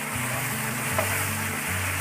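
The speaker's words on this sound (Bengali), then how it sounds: "সরিষার পেস্টটা দিয়ে দিলাম। এটা একটু ভাজা দিয়ে নেই।" Mustard paste with garlic and dried chilli fries in a pan for a Bangladeshi long bean bhorta, giving a soft, steady sizzle with no talking.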